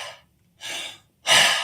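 A person imitates a dog's relaxed panting with open-jaw breaths: three breathy huffs, the last strongest, close and fairly loud, with no talking.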